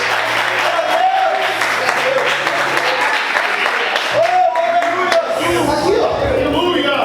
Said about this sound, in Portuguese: Vamos aplaudir mais forte,